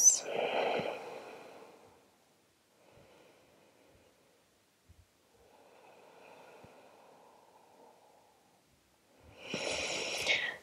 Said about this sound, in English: Let's stay for three more deep breaths.